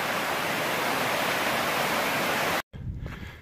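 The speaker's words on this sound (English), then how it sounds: "Doesn't look much like a spring, but some rapids." Rushing rapids of a spring along the Appalachian Trail, a loud steady broadband water roar close by that cuts off abruptly near the end, followed by a quieter stretch.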